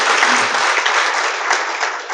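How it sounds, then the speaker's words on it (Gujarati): Audience applause welcoming guests onto the stage at a community talk in Gujarat, a loud, dense, sustained clapping from a crowd that holds steady throughout without voices. "સ્ટેજને આજે આપણે તાળીઓથી વધાવવું છે"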